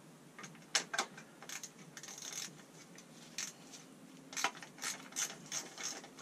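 A socket ratchet with a 10mm socket clicking on a Honda CB200 motorcycle, sounding as close, crisp bursts of rapid clicks in irregular spurts with short pauses between them.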